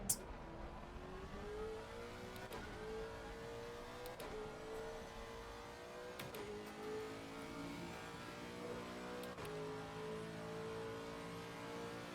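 Race cars in Assetto Corsa Competizione, including a passing Porsche, give a quiet, whining engine note that climbs repeatedly through gear changes with brief breaks between shifts.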